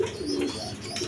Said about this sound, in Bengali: এখানে এক পেয়ার রাজগোল্লা কবুতর, একদম বিগ সাইজের নর মাদি, সেম টু সেম